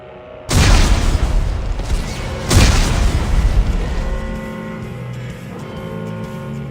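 Explosives detonate in Dead Space 3: two loud, close booms, one just after the start and a second about two seconds later, each trailing off into a rumbling decay.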